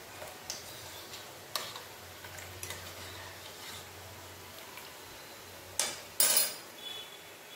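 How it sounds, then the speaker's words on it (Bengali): A spoon stirs powdered milk into water in a container, giving faint, sparse clicks against the side at first and then a few louder, close scraping clinks near the end, with no talk. "দুধটা ভালো করে গুলে নিতে হবে।"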